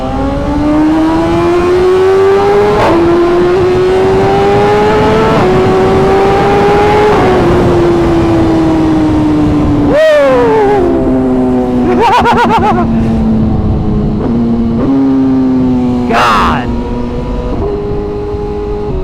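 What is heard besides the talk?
motorbike engine revving in tunnel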